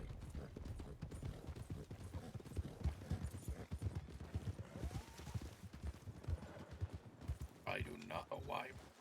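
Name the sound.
horse hooves clip-clopping in a roleplay video game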